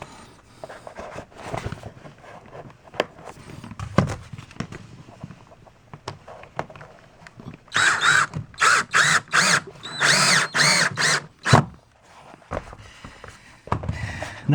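A power drill drives a screw high into a corner during a shower install, its motor whirring in several short pulses that follow some lighter handling noises.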